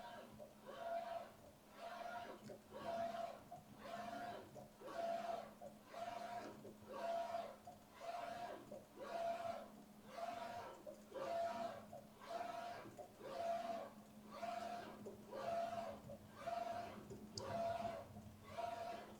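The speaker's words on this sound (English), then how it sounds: "It is going to start printing the colors on the fabric" A hybrid digital and Octopus screen printing machine prints colors onto fabric, producing a steady cycle of about fifteen evenly spaced mechanical strokes over a constant motor hum, fairly close and moderately loud.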